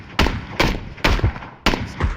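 Gunfire from an SKS rifle in an online shooter video game, four loud, evenly spaced single shots with short tails, close and dominant with no talking over them.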